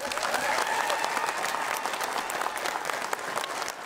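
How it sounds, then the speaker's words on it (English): A packed audience applauds and cheers for the graduating class at a law enforcement academy graduation, with steady dense clapping and crowd noise filling the room throughout. "It was a packed house to salute and cheer 22 men and women."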